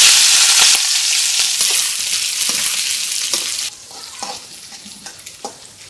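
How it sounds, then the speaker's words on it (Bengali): Shrimp and eggplant fry loudly in hot oil, a strong close hiss that softens partway through, with scattered scrapes and clicks from stirring and no talking. "তেলটা গরম হইলেই মাছটা দিয়ে দিই।"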